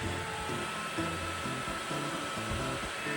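A WarmGlow portable wall heater with ambient light runs on its high setting, its fan blowing a steady, close, even whoosh of warm air with no voices.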